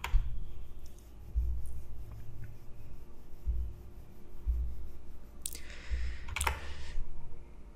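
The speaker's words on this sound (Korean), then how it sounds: "이렇게 타이핑을 한 후에" Keys on a computer keyboard are tapped while Python code is entered, producing soft, irregular clicks and dull thumps at close range, with quiet stretches between bursts and no talking.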